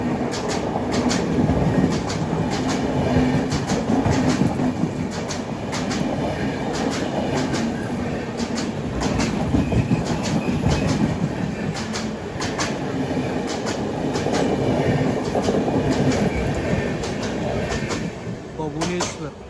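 A train runs on rails near Godavari railway station, with steady loud rumbling and rhythmic clickety-clack of wheels over the track joints throughout.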